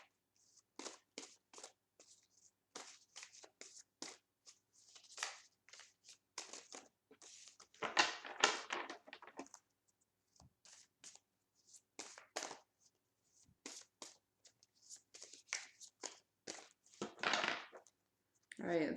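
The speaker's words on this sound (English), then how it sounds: "I'll shuffle a couple more times" Tarot cards are riffled and shuffled repeatedly in quick papery bursts, close up, with short pauses between each pass and no talking.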